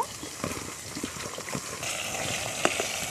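Pieces of laufali sea fish fry in hot oil as they are lifted out of the pan, giving a steady, soft sizzle with scattered crackles and pops close by.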